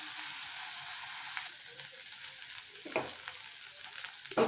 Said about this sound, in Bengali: এখন আমি দিয়ে দিলাম পেস্টগুলো। এগুলো এখন ভেজে নেব একটু ব্রাউন করে।